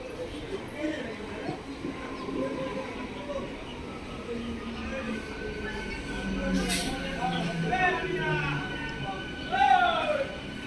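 A Howrah–Panskura local passenger train rolls into Bauria Junction with steady rumble and clanking, squealing brakes rising near the end, while people talk in the background.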